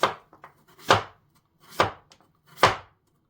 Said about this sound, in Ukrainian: І починаємо його нарізати тоненькими-тоненькими кусочками.